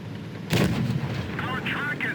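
A tank cannon fires once in World of Tanks Blitz, a single loud, booming shot with a sharp onset and a rumbling decay, followed by softer mechanical game sounds.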